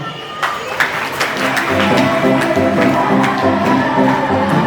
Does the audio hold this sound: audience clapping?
yes